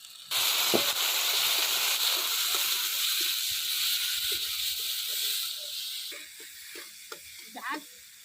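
Bengali village cooking: spice paste of chili and ginger, with dried chili, cumin, salt and turmeric, frying in oil gives a loud steady sizzle, easing slightly toward the end as a voice speaks over it.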